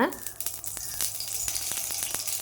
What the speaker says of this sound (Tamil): நம்ம வந்து பணியாரம் ஊற்றிக்கலாங்க